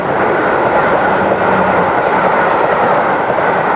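LNER A4 steam locomotive 6009 running south along the Welsh Marches on a Crewe to Gloucester positioning run, heard as a loud, steady broadband roar of train noise without distinct exhaust beats, with no talk.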